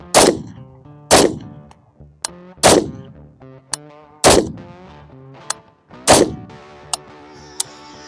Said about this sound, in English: Let's light up some rounds and see what happens.